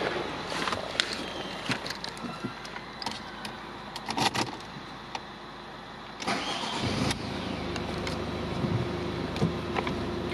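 A Ford Focus engine cranks and catches, then settles into a steady idle, heard close and fairly loud after a few clicks and key jangles, with no talking.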